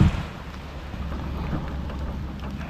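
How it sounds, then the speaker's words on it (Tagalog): Steady, dense rain pouring down with a low rumbling roar, continuous and fairly loud throughout, with no voices. "Ayan, lumalakas ang ulan."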